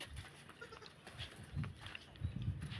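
A goat grazing on grass and leaves near the Biri rock formations in Northern Samar bleats faintly at a distance, with soft scattered rustles and low background noise around it.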